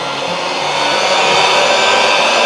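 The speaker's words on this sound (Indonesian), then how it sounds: "Garam, minyak zaitun, dan kita mau mixer dulu sebentar." An electric mixer runs continuously, mixing pizza dough of low-protein wheat flour, salt and olive oil, a steady loud whirring drone held throughout with no talking.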